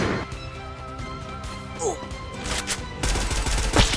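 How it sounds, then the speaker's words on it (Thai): Rapid Groza rifle fire in the mobile battle royale game Free Fire, dense bursts of game gunshots and effects running continuously, loud and busy, with someone talking excitedly over the action. "กอซ่ายิงโคตรเจ็บ แล้วยิงเป็นกอซ่าเอ็กด้วยนะ"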